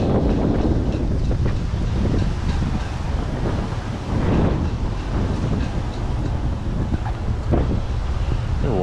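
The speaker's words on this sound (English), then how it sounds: "Pretty windy today" Strong wind buffets an outdoor microphone near the Gulf of Mexico in Tarpon Springs, a loud, constant low rumble with gusty surges and no clear talk over it.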